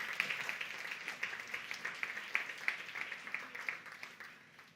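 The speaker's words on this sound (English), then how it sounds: "Let's have a round of applause for them." Audience applause at a photojournalism editorial awards ceremony, steady dense clapping from a crowd at moderate distance, sustained evenly for several seconds without voices.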